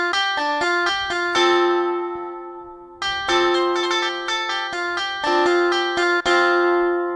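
A keyboard imitates the sape, a traditional four-string Sarawakian instrument, playing bright plucked notes in quick melodic runs with ringing sustain, a short pause, then another phrase of plucked tones.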